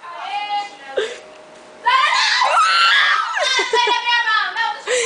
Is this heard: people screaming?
yes